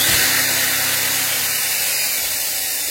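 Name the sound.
electric drill running on a power station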